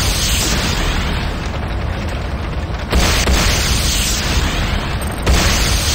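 A Nod airstrip blows up in the game Renegade, a loud, continuous roar of explosions that fills the whole stretch, with fresh blasts surging in near the middle and again toward the end.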